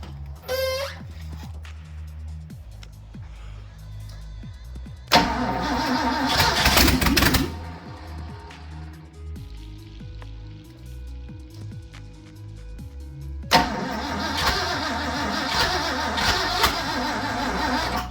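A carbureted car engine is started for the first time, cranking and catching in two loud bursts of a few seconds each, with quieter idle-like murmurs and clicks between them.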